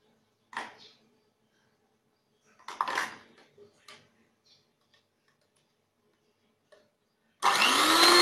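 Cake batter being stirred in a bowl after adding vanilla and SP cake emulsifier: a few scattered scraping taps against the bowl, close and fairly quiet with pauses between, then a sudden loud steady whirring roar at the end.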